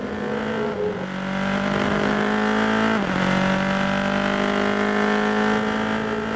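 A Formula Masters open-wheel race car at Zhuhai circuit drives at speed, its engine a loud, steady high-revving whine with a brief drop in pitch around an upshift, then climbing again; no talking.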